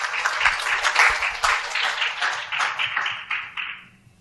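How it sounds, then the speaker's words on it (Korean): Warm audience applause at a digital publishing seminar welcoming a speaker to the stage, a full crowd clapping steadily for about four seconds before fading out. "큰 박수로 맞이해 주시면 좋겠습니다"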